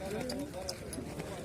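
Hooves of a small horse at a cold winter livestock bazaar in Alay, a quick, light clip-clop of a few steps under a man's close, steady talking.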